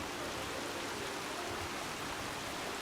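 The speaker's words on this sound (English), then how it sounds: "I put a waterfall at the one end" A waterfall pours into an enclosed pool in the Fallout 4 video game, making a steady, dense rushing hiss that stays constant and fairly loud throughout.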